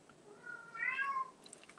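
A cat gives one short, fairly faint meow in a quiet indoor room, wanting to be let outside.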